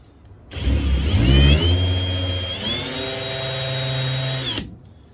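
A drill spins a Harbor Freight countersink bit, starting abruptly, revving up with a whining rise in pitch, then holding a steady loud drone for several seconds before stopping.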